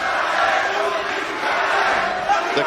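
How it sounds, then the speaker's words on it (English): Arena crowd at a Cage Warriors MMA fight roars and cheers steadily throughout, a dense, continuous wash of many voices with no single speaker standing out. "The crowd cheering for Luke Riley."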